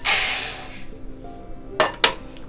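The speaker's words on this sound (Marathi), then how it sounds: "एका पसरट भांड्यात काढून घेते" Roasted moong dal is tipped out of the cooking pan into a wide vessel: a loud rushing scrape of grains, then two sharp metallic clinks of utensils.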